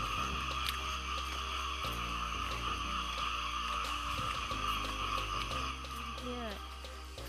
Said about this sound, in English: Only you can hear now sound from the frog.